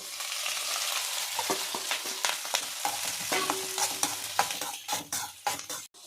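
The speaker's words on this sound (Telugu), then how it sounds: "పచ్చిమిర్చి లో ఫ్లేమ్లోనే మగ్గించుకోవాలండి." Green chillies sizzle as they fry in a pan, stirred with irregular scraping clatters over a steady frying hiss, close up and with no voices.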